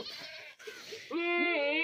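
A goat bleats loudly and close by in a long, wavering cry among a herd of Hotal Beetal breed goats, preceded by a quieter stretch of shorter calls.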